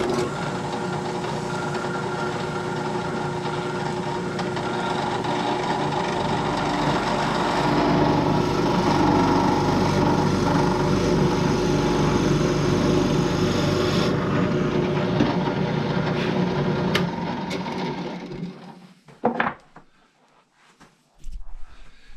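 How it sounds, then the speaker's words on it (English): A drill press motor whines steadily and loudly for a long stretch while drilling wood, then winds down and stops, followed by a few light clunks. "I've set up my drill press. And I have it set so that it will go 1 inch deep"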